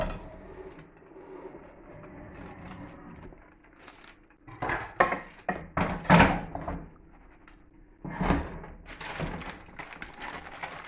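Potato rosti slid back into a frying pan, with a stretch of hard metallic scraping and clattering of pan and utensil that comes in close, uneven bursts after a quieter start.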